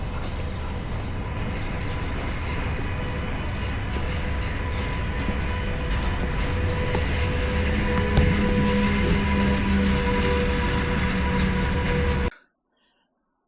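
A train at a railway station gives off a continuous, loud rumble with a faint metallic whine above it, holding steady for about twelve seconds before cutting off abruptly.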